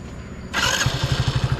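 A Hero Xtec motorcycle engine starts with a sudden burst, then settles into a steady idle with a rhythmic, pulsing vibration, close and fairly loud.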